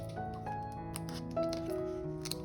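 Scissors make a few soft, close snips and rustles as a piece is cut off, probably paper or fabric, in a quiet room. The sound is faint and brief, with no talking.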